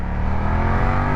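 A BMW F900R motorcycle engine pulls hard and loud through a quick-shifter gear change, a steady dense roar with a slight rough shift in tone over about a second.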